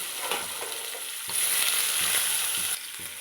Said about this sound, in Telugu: ఇప్పుడు ఆనియన్స్ కూడా వేసేసుకున్నాను లాస్ట్గా ఆనియన్స్ వేసుకుంటున్నానండి